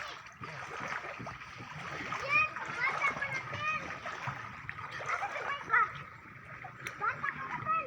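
Water splashes repeatedly as people bathe in the sea, with children chattering and shouting over the choppy, uneven splashing.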